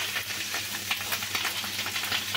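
Fish roe frying in a pan of hot oil, a close, continuous bubbling sizzle with occasional soft spits and pops, heard alone without voices.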